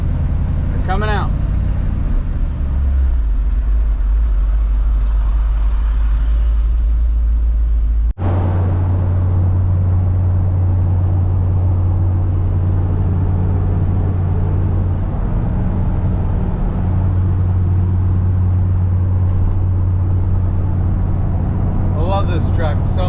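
A heavy truck engine running on an HEI distributor rumbles steadily at close range, with a deep low drone that shifts pitch partway through as the truck keeps moving.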